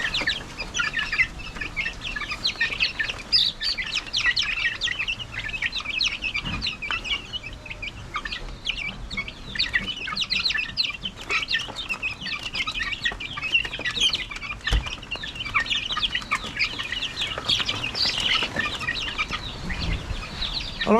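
Young chicks are being fed and give a continuous chorus of overlapping clucks and peeps close by, with occasional soft knocks and pecking sounds mixed in.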